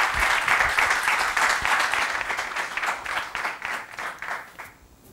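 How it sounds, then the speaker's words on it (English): An audience applauds after a conference talk on Java enterprise applications, a fairly quiet, steady patter of many hands that thins out and fades toward the end. "please, a big round of applause for him"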